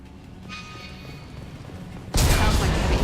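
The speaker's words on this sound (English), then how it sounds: "Sounds like heavy fire." Heavy video game gunfire erupts suddenly as a loud, dense burst of rapid shots after a quieter stretch of low ambient rumble.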